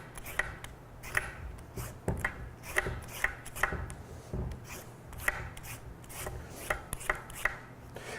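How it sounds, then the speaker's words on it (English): Sweet potatoes being peeled by hand in a kitchen, giving repeated short scraping strokes in an uneven rhythm, close and moderately loud, with no talking. "In the meantime, we're gonna peel our sweet potatoes."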